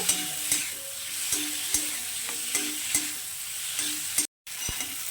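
Fried potatoes being stirred into a spice masala in a pan, with a steady sizzle and regular scraping strokes of the spatula roughly every half second, close and without voices, broken by one brief dropout.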